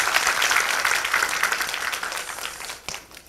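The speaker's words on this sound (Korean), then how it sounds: "여러분 함께 우리 정지영 감독님의 40주년 축하 박수 어떠십니까?" An audience at a film screening talk claps warmly to congratulate a director on his 40th anniversary, a dense steady applause that gradually tapers off near the end.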